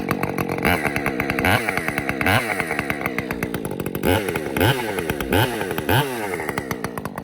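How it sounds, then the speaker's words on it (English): Husqvarna 550 XP Mark 2 or 562 XP Mark 2 chainsaw being revved hard, loud close-up bursts of throttle climbing and falling in quick repeated cycles, with sharp throttle response and no talking. "It's a very loud saw, but it sounds freaking phenomenal"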